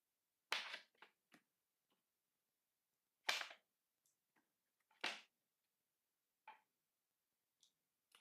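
Short bursts of fireworks for a Merdeka Day celebration crack in the distance, a few sharp isolated pops spaced irregularly against an otherwise quiet evening.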